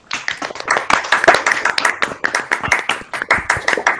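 Scattered clapping from several participants on an online video call of a university physics colloquium, sharp uneven claps overlapping close to the microphones, with no talking.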